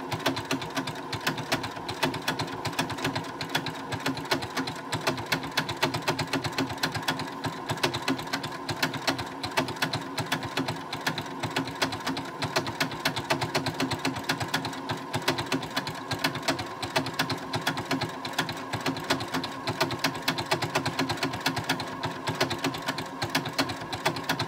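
A sewing machine stitches a hand sanitiser cover in one long, steady run, its fast mechanical rattle close and continuous with no pauses and no talking.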